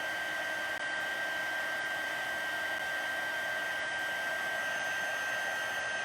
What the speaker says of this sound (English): you can see how the heating tool, once it warms up, you can really speed up the process